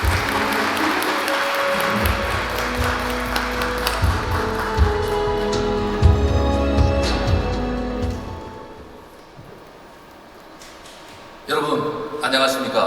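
An audience applauds to welcome a Hyundai executive onto the stage at a Hyundai certified used car center presentation. Sustained clapping sits over background music and a voice, dips around nine seconds, then swells again.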